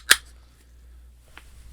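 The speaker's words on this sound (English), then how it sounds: "I just cracked open a beer" A beer can cracked open with a single sharp snap of the tab, followed by quiet and a faint later hiss or click as it sprays; no talking.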